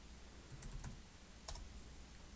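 A few light keystrokes tapped on a computer keyboard, a quick pair followed by a single click, faint and close in a quiet room.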